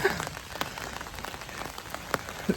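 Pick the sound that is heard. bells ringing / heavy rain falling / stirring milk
heavy rain falling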